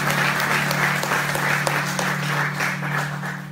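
A church congregation claps together during a Spanish-language sermon, sustained crowded applause rising and easing over a few seconds with a steady low hum beneath.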